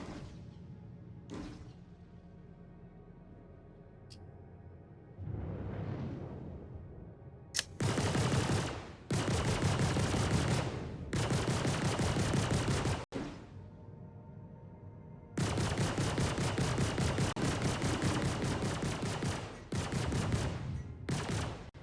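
Bursts of rapid automatic gunfire strike a ship in the Star Citizen video game, with loud sustained volleys separated by quieter gaps and a few sharp thuds.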